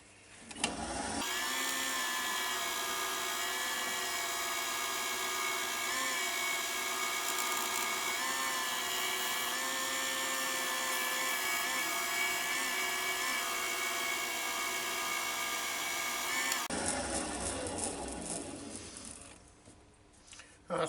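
An old oak bowl spins on a woodturning lathe while being buffed, producing a steady, close, whirring machine hum with a faint rubbing hiss that runs for most of the clip, then winds down near the end.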